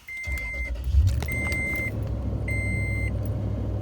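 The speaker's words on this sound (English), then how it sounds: "Alright, I'm going to turn my truck on here." A truck engine cranks and catches, then settles into a steady idle. Three evenly spaced dashboard chimes sound over the running engine, up close inside the cab.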